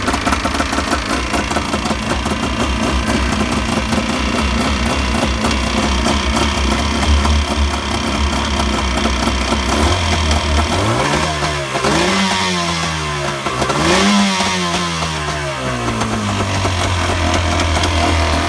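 A 1991 Yamaha Waverunner engine running with its air intake plugged during winterization, a loud, close, steady idle with a rapid rough knock, then rising and falling revs in a few swells before settling back to idle.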